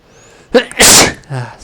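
A single loud, close sneeze with a short sharp intake and burst, followed by a brief trailing vocal sound, in an otherwise quiet room.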